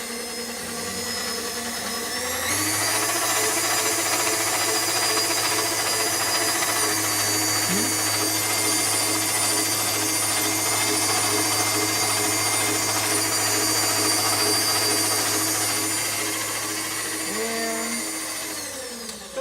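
An electric mixer creaming cake batter at medium speed, a steady loud motor whine starting after a brief quiet lead-in and running continuously to the end, close by, with faint speech under it.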